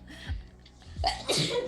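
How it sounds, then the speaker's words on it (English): A single close sneeze with a brief wind-up breath before it, followed by a short breathy exhale. "That was like a 5-minute almost sneeze."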